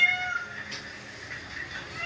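A pet cat meows at home around mealtime, one drawn-out mew rising and then fading, fairly close and clear against a quiet room with no talking.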